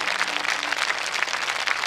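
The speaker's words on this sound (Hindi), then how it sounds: "आए दोनों हाथ उठाएं और ताली बजाएं उस परमेश्वर के लिए" A prayer-meeting congregation claps hands in praise, a brief dense burst of many hands clapping together, fairly loud and even.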